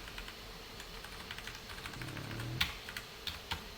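Typing on a computer keyboard in a quiet room: a run of light, irregular key clicks, a few sharper taps standing out, close and fairly soft, with no voices.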